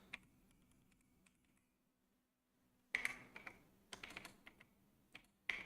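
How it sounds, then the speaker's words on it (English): Quiet, close computer keyboard typing during a live coding session, coming in short irregular bursts of clicky keystrokes separated by pauses. "I can mostly touch type, but not fully."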